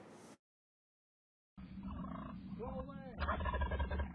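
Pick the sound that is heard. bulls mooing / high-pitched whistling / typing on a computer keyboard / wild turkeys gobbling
wild turkeys gobbling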